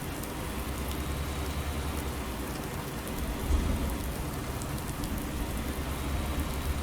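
Steady rain falls in Farming Simulator 19, a dense, even hiss of drops on surfaces with a low rumble underneath, constant throughout with one slight swell midway.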